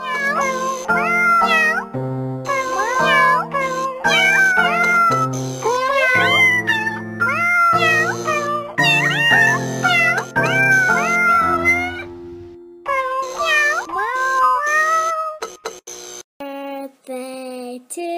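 A cat meows over and over, loud and close, in a rapid run of drawn-out, pitch-bending cries. The meows fall into a rhythmic, almost sung melodic pattern with short gaps between phrases.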